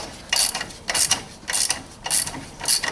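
Ratchet wrench tightens engine mount bolts on a 2006 Nissan Serena. Five close, loud bursts of quick clicking are separated by short pauses, with no talking.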